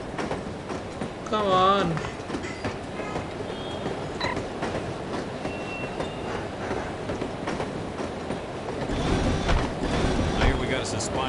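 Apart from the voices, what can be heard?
train riding sounds in the video game No One Lives Forever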